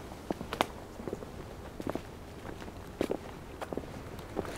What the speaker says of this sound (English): And then the sound of the boardwalk as we head down.